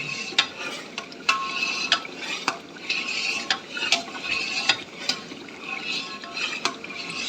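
Chilli paste cooks in a pan while a spoon stirs it, making regular scraping and clinking strokes over a low bubbling sizzle, close and fairly busy.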